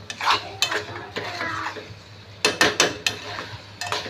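A utensil stirring pasta in a pan, with scraping swirls and sharp metallic clinks against the pan's side in an irregular rhythm, close by over a low steady hum, no talk.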